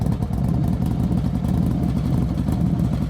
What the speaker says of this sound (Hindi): तभी तीनों लड़कियों को बाहर से किसी गाड़ी की आवाज सुनाई दी